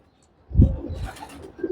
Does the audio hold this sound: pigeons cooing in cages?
yes